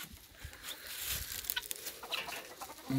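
A bantam rooster clucks in short, scattered bursts close by, with faint bird calls and outdoor rustling around it.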